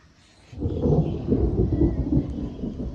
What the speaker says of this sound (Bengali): গুরুম গুরুম করতেছে